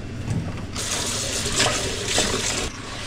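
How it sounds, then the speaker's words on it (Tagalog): Tap water runs steadily into a kitchen sink while dishes are washed after breakfast, a close continuous gushing splash with slight surges, no talking. "maghugas na tayo ng mga pinagkainan"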